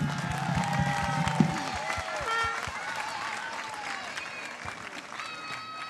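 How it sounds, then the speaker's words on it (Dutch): Audience applause at an outdoor village event in Akkrum, steady clapping and some cheering that holds for several seconds, with music tones and a few sharp claps standing out. "En daar wil ik een geweldig applaus voor hebben."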